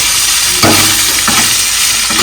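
Pork sizzles and fries in its own rendered fat, with steady loud crackling and a few bursts where the meat is stirred and scraped in the pan.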